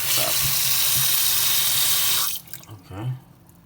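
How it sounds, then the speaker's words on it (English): Tap water runs steadily and loudly into a glass water kettle for about two seconds, then cuts off, followed by a couple of faint clunks and a brief low splash. "Put in the water to the max right there."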